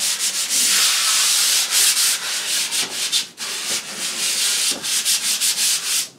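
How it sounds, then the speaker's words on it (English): 220-grit sandpaper rubs by hand over a drywall patch, knocking down rough edges with steady, close, gritty back-and-forth strokes and brief pauses, and no voices. "Now, I've got my 220 grit sandpaper, and I'm not sanding as much as just knocking down a few of the rough edges."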